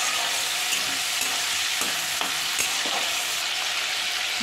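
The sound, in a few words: prawns frying lightly in oil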